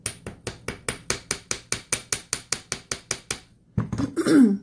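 A small hammer taps the curves of a wire heart toe ring in a steady, even series of about seventeen close, crisp strikes, followed by a brief shuffling noise.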